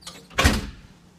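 A hotel room door at a Hampton Inn, opened with an RFID card lock, gives one short mechanical clunk and rattle as the latch releases and the door swings, heard close and alone.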